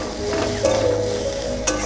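Garlic pieces and green chillies sizzle in a hot pan for rui fish curry, a steady crackling fry with brief scraping stirs of a spatula.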